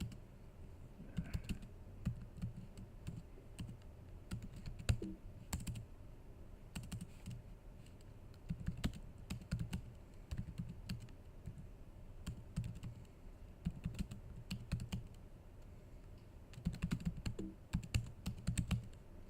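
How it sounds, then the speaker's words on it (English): Computer keyboard typing in a console session: bursts of quick key clicks separated by short pauses, fairly close and steady throughout, with no talking over it. "I'm just typing tab."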